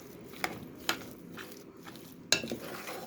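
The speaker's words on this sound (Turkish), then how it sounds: "Bunları iyice karıştıracağım." Potato and dill filling for börek being mixed in a bowl: a few sharp clinks of a utensil against the dish punctuate a soft, steady scraping and stirring, close and fairly quiet, with no talk.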